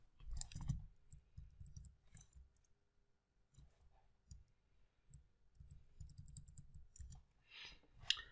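Soft keyboard clicks as someone types on a computer keyboard, with irregular clusters of keystrokes and short pauses, quiet and close.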